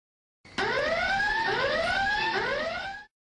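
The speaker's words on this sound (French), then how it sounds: "À toi de déclencher l'alarme des secrets." An electronic alarm from a Secret Story reality show made in The Sims 3 blares with repeating rising sweeps, three or four whooping cycles, loud and close, stopping abruptly after a few seconds.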